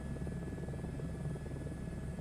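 Airbus H125 helicopter in flight over Wales on a windy day with turbulence, heard from inside the cabin as a steady, dense rotor and turbine drone that stays even throughout, with no talk.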